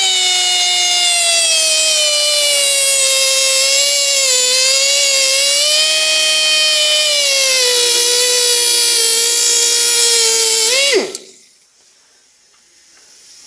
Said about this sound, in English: rather than file, I'm going to take it to the abrasive belt like this.